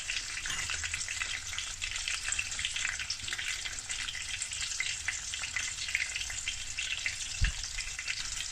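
Breaded tofu fries frying in hot oil, giving a continuous bright crackling sizzle close by, with one brief low thump near the end.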